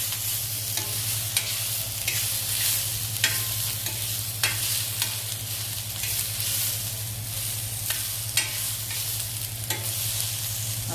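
Chopped onion stir-fried in a pan while making kaju masala, with a steady close sizzle broken by repeated scraping and stirring clicks throughout, no voices.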